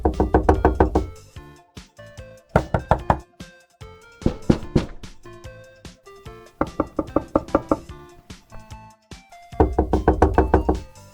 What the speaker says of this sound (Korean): 문을 급하게 두드리는 소리를 한 번 더 해봅시다.